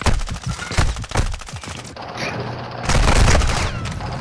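Rapid bursts of M4 rifle gunfire in a first-person shooter, with several sharp clusters of shots early on, then heavier sustained firing toward the end, loud and close.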